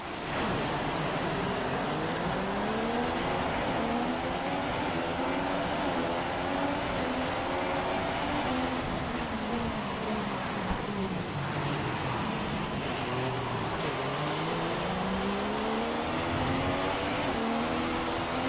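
At the race start in the F1 2016 video game, Formula 1 engines scream and wail, their pitch sweeping up and down through repeated gear changes against a loud wash of noise, with no voices.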